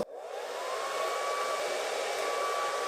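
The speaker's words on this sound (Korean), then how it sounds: "그리고 드라이기랑 롤빗, 이 볼륨 죽일 부분에 꾹 눌러줘요." A hair dryer runs loud and steady at close range for the whole stretch, blowing hot air onto a section of hair pressed with a round brush. Its whine holds constant and no one speaks.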